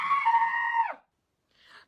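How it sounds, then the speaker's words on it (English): A person screams alone in one loud, sustained, high-pitched cry of about a second, followed after a short silence by a briefer, fainter cry. "I need to scream for a second."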